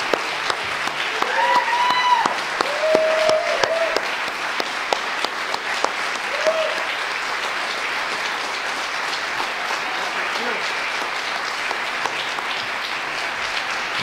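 Sustained applause from an audience at a live coffee house concert in Rochester, NY, dense steady clapping lasting the whole stretch, with a few brief whistles or cheers early on.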